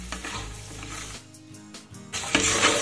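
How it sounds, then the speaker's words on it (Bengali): Grated coconut fries with potatoes in a pan, giving a steady close sizzle with stirring scrapes, a quieter stretch midway, then a louder burst of sizzling near the end. "এবার আমি এতে দিয়ে দেব নারকেল কোড়া। আর নারকেলটাও কিন্তু এর সাথে ভালো করে ভেজে নিতে হবে।"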